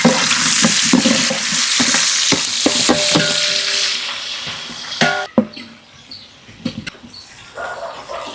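Onions tipped into hot oil in a pot over a firewood fire for dum pulao, with a loud, steady sizzle and frying hiss. Clatters of stirring follow, the sizzle then easing off, and a dog barks faintly in the background.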